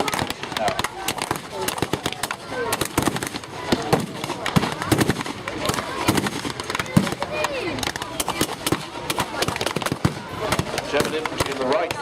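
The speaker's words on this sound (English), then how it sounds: "German infantry in the right front, now heavily engaged, putting up a glittering small arms fire" Small arms and machine gun fire in a staged battle with German infantry and an American Chaffee tank, dense popping shots and bursts throughout, with a narrator talking over the fire.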